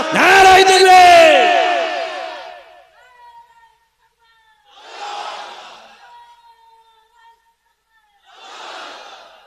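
A large crowd at a religious gathering roars a takbir chant in answer to a speaker's call, a loud collective shout followed by two fainter, more distant waves of voices.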